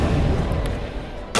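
A single loud, sharp gunshot from the Mass Effect Legendary Edition video game cracks out at the end, after a dense stretch of rumbling combat noise.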